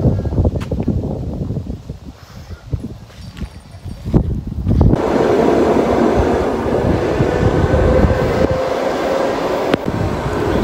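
A suburban electric train rumbles past, its noise swelling midway into a loud, steady roar of rolling wagons that carries on to the end, with no talking.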